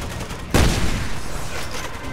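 A single sharp sniper rifle shot in the video game Resident Evil 6, a sudden loud crack followed by a lingering rumbling decay over a busy game-sound background.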